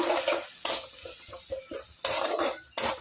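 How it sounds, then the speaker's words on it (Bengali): Green chilies and garlic paste stirred in a frying pan, with a spoon scraping and clattering against the metal in short bursts over a faint background sizzle. "রসুন বাটাটা দিয়ে একটু ভালো মতো নাড়িয়ে কষিয়ে নেব"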